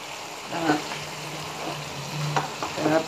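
Minced meat cooks in a pot with added water for a rice-and-meat dish, giving a soft, close sizzle broken by a few bursts of stirring scrapes.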